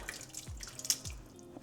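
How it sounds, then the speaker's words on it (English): Liquid drains from a can of home-canned corn into a sink, heard as short wet splashes and drips close by, brief and fairly quiet, with no talking. "Now I am gonna drain the corn."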